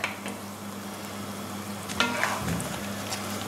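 Thai roti pancake with chocolate and banana frying in a pan on a stove, a steady close sizzle with a few soft scrapes and clicks as it cooks.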